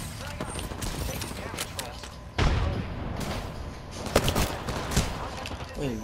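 Rapid bursts of video game gunfire from Apex Legends crackle in repeated volleys with sharp booms, mixed under a player's ongoing talk.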